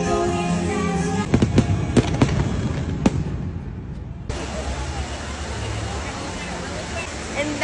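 A fireworks show at Epcot in Walt Disney World: a quick series of sharp bangs and pops, a short lull, then a dense, continuous crackling rumble, with crowd voices underneath.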